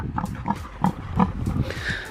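A pig chomps and grunts up close in a steady rhythm of about four or five wet, chewing bursts, with no talk over it.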